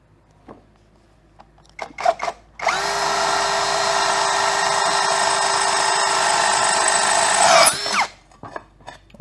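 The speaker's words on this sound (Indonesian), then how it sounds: "Kita gunakan mata bor tombak. Kita gunakan mode drill speed 2." A Hasston 16V brushless cordless drill fitted with a spear bit runs in drill mode at speed 2 into wetted material: a steady, loud whine lasting about five seconds that rises slightly just before stopping, framed by handling clicks.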